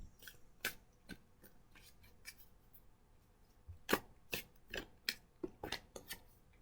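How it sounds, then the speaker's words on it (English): Tarot cards being shuffled by hand, heard as a string of crisp papery riffles and flicks, sparse at first and then quicker, louder bursts near the end, close up with no talking. "Can I shuffle the cards for them?"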